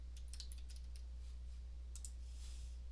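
Light computer clicks come in a few quick, scattered bursts over a steady low hum while someone works through testing software. The clicks are faint and close, and no one speaks.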